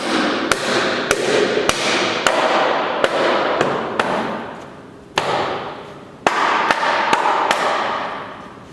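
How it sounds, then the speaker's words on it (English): A wooden trunnel peg is driven into a timber frame joint with a steady series of about fourteen sharp hammer blows, close and loud, each ringing briefly before the next strike. "Now I take my trunnel, set it down, drive it down."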